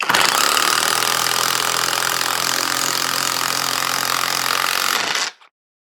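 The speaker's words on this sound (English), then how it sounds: "Now let's see how this machine performs in action by driving in a fairly large lag screw." An Einhell IMPAXXO 18/450 cordless impact wrench at top speed drives a large lag screw, a loud continuous rattling hammer-buzz that runs for about five seconds and then cuts off abruptly into silence.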